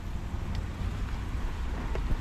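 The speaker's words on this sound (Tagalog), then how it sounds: "mahangin na naman po yung panahon" Steady wind rumble buffets the microphone, a continuous low roar with no talking.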